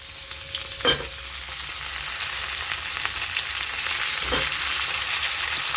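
Potato, carrot and beans frying together in a pan for a winter-vegetable fish curry, a steady broadband sizzle throughout with a couple of brief stirring scrapes.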